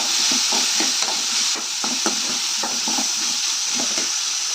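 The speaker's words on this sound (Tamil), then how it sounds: "தக்காளி இப்படி நல்லா மசியறதுக்காக இப்படி நல்லா நம்ம சுற்றி விட்டுக்கலாம்" Onions and tomatoes frying for a country chicken curry, stirred in a pan, a steady loud sizzle punctuated by repeated spatula scrapes and taps, close, with no voices.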